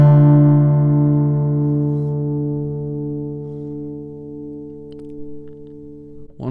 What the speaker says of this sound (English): let's strum this chord and see what it sounds like